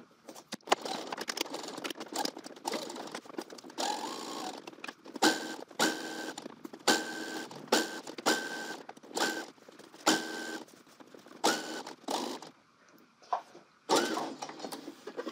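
A sewing machine stitching a coat, running in repeated short bursts of rapid mechanical whirring with brief pauses between, close and clear with no talk.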